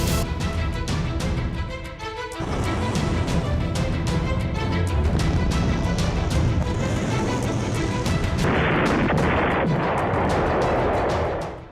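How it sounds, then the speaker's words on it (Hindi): A barrage of rockets is launched during an Israel-Hezbollah attack, heard as loud, dense, continuous booming and rapid firing with a roaring rush of launches building toward the end. "तो 130 से ज्यादा रॉकेट की बौछार"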